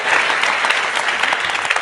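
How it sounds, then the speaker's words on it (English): An audience breaks into loud, dense applause, many hands clapping together close and steady, with no voices above it. "Give yourselves a round of applause."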